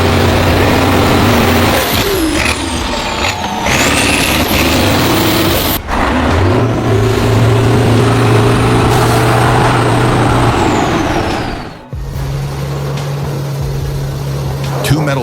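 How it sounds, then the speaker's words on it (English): Powerful pickup truck engines rev and roar hard as the trucks fight a slippery mud road, loud and close with rising and falling pitch, under a narrating voice. "Two metal beasts, two powerful pickup trucks, roared loudly, struggling with a slippery road like a sheet of ice."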